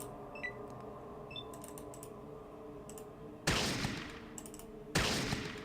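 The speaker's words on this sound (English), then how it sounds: "I accidentally shot this guy, so we're just gonna shoot him again" Two loud, sharp gunshots from the video game Fallout ring out about a second and a half apart, each decaying slowly over faint clicking and a low background hum.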